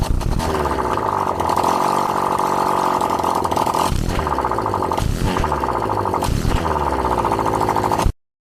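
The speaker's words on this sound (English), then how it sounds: "I've rebuilt the engine and it's been started for the very first time." A freshly rebuilt vehicle engine runs steadily just after its very first start, a continuous close mechanical drone with a few brief dips in tone, no talk over it.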